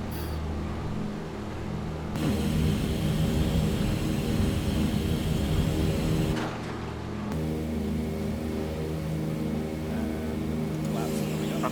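Twin radial engines of a DC-3 drone steadily as it climbs after takeoff in Microsoft Flight Simulator, a loud continuous roar that shifts in tone, with cockpit talk over it.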